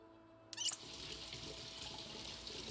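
Water running in Project Zomboid as a character drinks, a brief louder splash-like burst followed by a steady, soft trickling wash that continues to the end.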